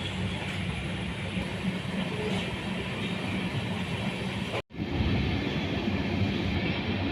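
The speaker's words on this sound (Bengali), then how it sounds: "নসিপুর রেল ব্রিজ পার করে এই মুহূর্তে আমাদের ট্রেন ঢুকছে মুর্শিদাবাদ জংশনের দিকে" Sairang to Kolkata Express train running toward Murshidabad junction, a steady loud rumble of wheels and carriage noise heard from on board, broken by one sudden brief dropout before resuming.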